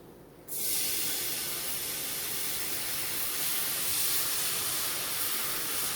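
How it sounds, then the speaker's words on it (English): A cup of milk hits a hot, boiling nacho cheese sauce pan, bursting into a sudden loud steamy hiss that continues as a steady broad sizzle with no voices. "So now you're going to put your cup of milk in"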